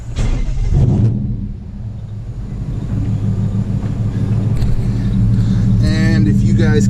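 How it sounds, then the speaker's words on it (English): A truck engine turns over and settles into a steady, deep idling rumble close by, with someone talking over it at the start and end. "We start the truck."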